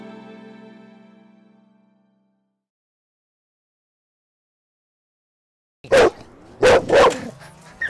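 A dog lets out a quick burst of sharp, loud barks close by, three or four in rapid succession, after a faint fading hum and a stretch of silence.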